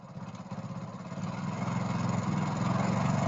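A Hero Splendor motorcycle engine running while its mixture screw is adjusted, a steady low mechanical chug whose revs climb and grow louder over a few seconds, heard up close with no talk.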